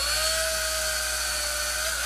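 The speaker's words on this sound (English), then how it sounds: "So I'm just going to drill in" A power drill pre-drills a hole into a guitar body, giving one continuous, close and loud high-pitched motor whine that holds a steady tone throughout.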